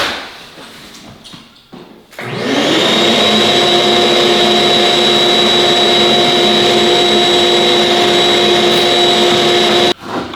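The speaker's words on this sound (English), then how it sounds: "And then hook your vacuum hose up." After a few thuds, a vacuum cleaner hooked to a floor-prep tool switches on and roars loudly with a steady high whine, running continuously before cutting off near the end.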